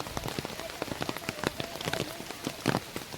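Heavy monsoon rain pours down in the Konkan countryside, a dense, steady patter of drops striking surfaces, fairly close and unbroken, with no voices.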